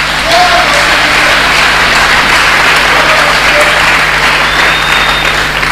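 A church congregation applauds loudly and continuously, a dense wash of clapping from many hands that holds steady throughout with a low hum underneath.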